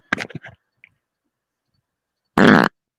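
A short, loud fart bursts out alone in a quiet pause, a single rasping blast lasting about a third of a second, with a brief voice just before it.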